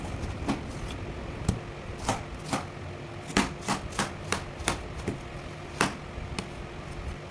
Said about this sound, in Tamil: இந்த தோலெல்லாம் சீவி எடுத்துருங்க.